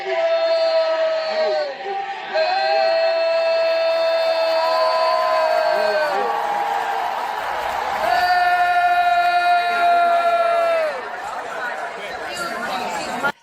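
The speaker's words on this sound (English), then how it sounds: "Sophie Cunningham getting booed as she checks in to the game." A Canadian arena crowd jeers at basketball player Sophie Cunningham, a loud mass of voices with drawn-out calls and chatter swelling in waves, close to the recording phone.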